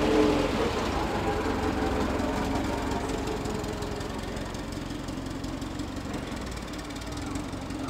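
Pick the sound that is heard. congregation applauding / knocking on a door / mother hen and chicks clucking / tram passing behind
tram passing behind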